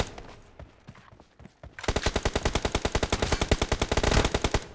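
Rapid automatic gunfire from a team deathmatch video game bursts out after a few scattered single shots, a loud, fast, evenly spaced string of shots that runs for several seconds without talk over it.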